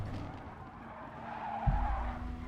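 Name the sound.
race car tires skidding at Brands Hatch, video game Gran Turismo Sport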